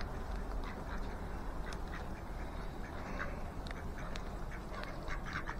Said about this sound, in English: we got some ducks and moorhen coming